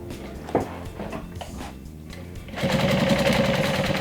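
A sewing machine stitches down a backpack handle, first with short, uneven bursts of clatter, then a louder steady whirring run of stitching.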